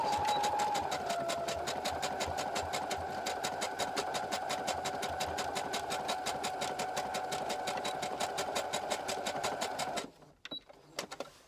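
A sewing machine runs steadily at a rapid, even stitching rhythm while sewing a tight zigzag on an elastic waistband, then stops near the end, leaving a few faint clicks and handling noises.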